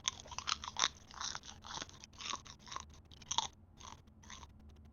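Close chewing and crunching of Japones chili pepper seeds, a steady run of wet, crackling bites and grinding crunches, loud and alone with no talking.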